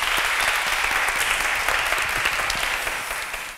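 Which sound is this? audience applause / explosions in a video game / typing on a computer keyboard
audience applause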